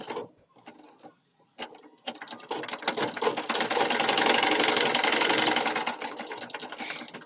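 A sewing machine stitches cloth for newborn baby clothes, sewing a double seam along a shoulder join, starting with a few short bursts and then running in a fast, steady, close-up chatter for several seconds.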